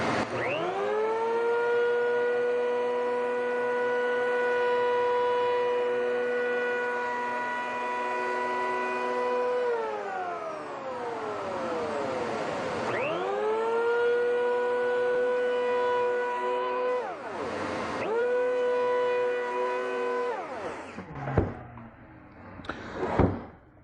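A TopShak hand-held power planer freehand cutting a chamfer along a 2x4 gives a loud, steady whining drone that sweeps down in pitch as the blades load up, recovers, then dips again before cutting off near the end.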